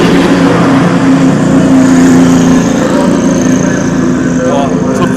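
Audi prototype race car at the Le Mans 24 Hours qualifying session, a loud sustained engine roar with a steady droning tone that holds high level throughout, crowd-like background noise beneath.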